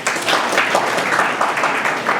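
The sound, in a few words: audience clapping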